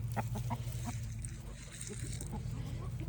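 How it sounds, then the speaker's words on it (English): Chickens cluck softly and steadily close by on a farm, with a few sharper calls over low background hum. "These are some of my favorite little chickens right here."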